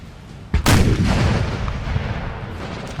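A 6-pounder cannon booms once in a Napoleon Total War battle, a sudden loud blast followed by a long rolling rumble that slowly fades, over a low battlefield background.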